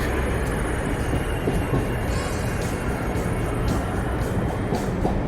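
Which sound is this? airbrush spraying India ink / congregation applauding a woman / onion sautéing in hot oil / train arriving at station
train arriving at station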